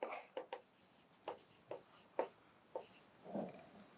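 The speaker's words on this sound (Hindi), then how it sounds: "अब मैं इसमें लिखता हूँ नेक्स्ट लिखता हूँ इसका नेक्स्ट पॉइंट" Chalk or marker writing on a board during a maths lecture: a series of distinct scratchy strokes with brief pauses, close and clear, and no talk over them.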